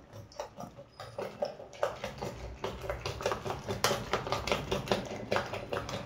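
Four eggs whisked in a bowl for a masala omelette, a steady run of quick, close clinking and tapping strokes against the bowl with no talk.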